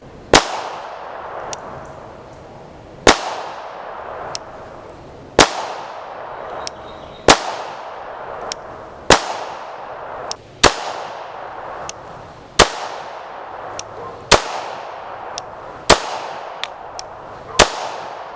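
A Beretta Model 84 .380 ACP pistol fires about a dozen sharp, loud reports at a 21-foot range, spaced one to three seconds apart, each ringing briefly before the next.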